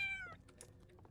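A short, quiet cat meow from a video game plays once near the start, followed by faint soft clicks and tapping.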